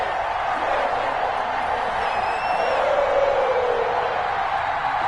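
A stadium crowd at a Cincinnati Bengals home game against the Baltimore Ravens in an NFL football video game roars in a steady, dense wash of cheering that holds at an even, loud level for the whole stretch, with faint whistles on top.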